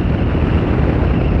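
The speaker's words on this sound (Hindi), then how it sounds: "क्या हवा चल रही है, मस्त।" Wind rushing past while riding a motorbike on a pothole-filled road, a steady loud buffeting roar with no voices.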